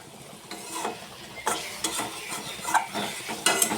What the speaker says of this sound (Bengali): এবার লঙ্কা আর টমেটোটা দিয়ে দেবো। এটা একটু ভেজে নেব